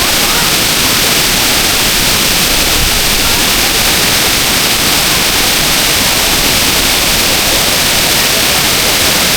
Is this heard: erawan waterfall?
yes